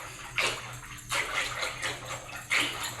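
Curd being churned with water and a squeeze of lemon juice into buttermilk, a wet sloshing swish in three bursts over a steady low background hum, close and moderately quiet.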